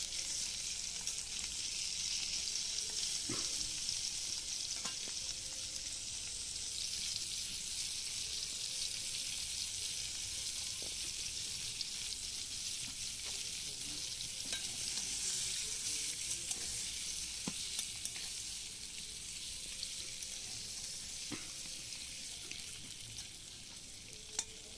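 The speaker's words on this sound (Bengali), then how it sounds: "সেদ্ধ করে খোসা ছাড়িয়ে নিয়ে ডিমগুলো নুন হলুদ দিয়ে ভালো করে ভেজে নেব" Peeled boiled eggs fry with salt and turmeric in a pan, a steady close sizzle running unbroken throughout with occasional faint clicks of stirring.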